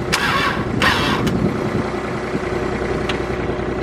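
A Subaru GC8 Impreza Turbo with the EJ20 engine cranks and fires on its first start after winter, with short bursts of starter effort giving way to a steady, close idle.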